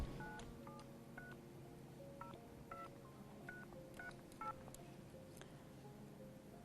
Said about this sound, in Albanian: më ndihmoni regjia të kem sinjal në telefon këtu në studio